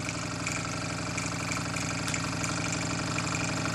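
A Mersey 52 engine runs after repair, cleaned cylinder and all, holding a steady mid-pitched idle with an even rapid knocking pulse, close and constant with no talk.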